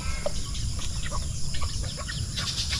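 Chickens eat fallen ripe fruit under a tree, clucking softly and often nearby over a low, steady outdoor background.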